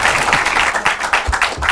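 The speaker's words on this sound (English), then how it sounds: "A round of applause." Applause rings out at a school quiz competition, a dense, steady patter of many hands clapping together with a few louder claps standing out, continuing for the full short stretch.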